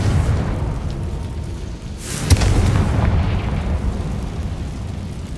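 A Confringo fire spell explodes in the Hogwarts Legacy video game, a single sharp burst followed by a deep rumbling roar that lingers over continuous low background noise.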